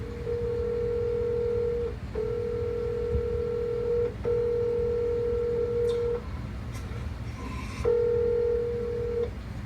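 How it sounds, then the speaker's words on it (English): A phone call being placed rings out as a series of repeated two-second electronic tones with short gaps, heard steadily over a constant low background rumble. "I'm gonna call her and pretend to be someone holding Tyler hostage for ransom."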